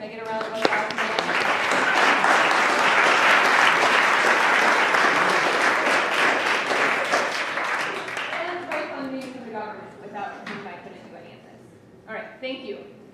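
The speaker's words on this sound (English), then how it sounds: "can I get a round of applause for the Society of Physics students who are doing the cornstarch demo out there?" An audience at a public physics lecture breaks into loud, dense applause that holds for several seconds before thinning out, with voices talking as it dies away.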